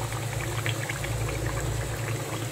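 Murg musalam, chicken in yogurt, simmers covered on a stove over a low flame, giving off a continuous close bubbling and hissing that stays level throughout.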